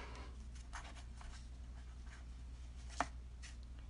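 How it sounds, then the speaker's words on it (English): A blending foam tool inks a paper card background, giving faint, soft swishing and scratchy dabs in a quiet room, with one sharper tap near the end. "So I'm just going to ink this background up."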